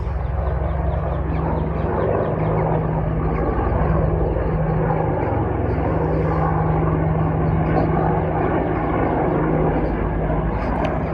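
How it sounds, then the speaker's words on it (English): Attack helicopters throb loudly overhead over London with a steady low engine drone, continuous throughout, with faint background noise. "I've already seen one attack helicopter go over, and now there's two more."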